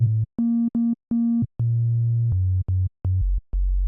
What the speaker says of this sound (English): I'm going to add a sub bass underneath it